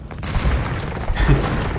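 Cannon fire from Turkish gunpowder units in Age of Empires II, dense overlapping booms and blasts forming a loud continuous battle rumble with one stronger impact standing out.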